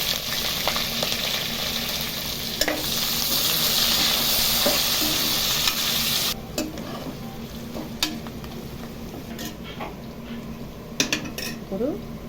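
Slit green chillies and onions frying in oil for prawn biryani, a loud hissing sizzle that drops off after about six seconds, followed by scattered utensil clinks and scrapes against the pot.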